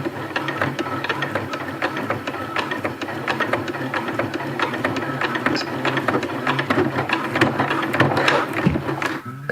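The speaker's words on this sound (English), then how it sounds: "We're going to sew over that same spot again, so we don't need to go crazy." Sewing machine stitching a Dyneema stuff sack, a continuous rapid mechanical clatter of needle strokes, close and steady for the whole stretch with no talking.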